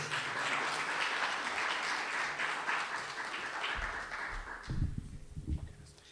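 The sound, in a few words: audience applause for dancers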